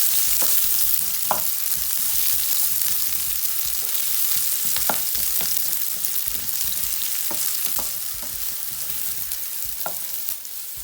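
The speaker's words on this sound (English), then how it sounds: "the onion, the white part of the spring onion, and garlic. Just stir fry for 2 minutes." Onion, the white part of spring onion and garlic stir-fry in hot oil for salt and pepper prawns, giving a loud continuous sizzle with scattered utensil taps and scrapes; no talking.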